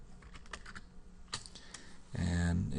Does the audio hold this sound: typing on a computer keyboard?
yes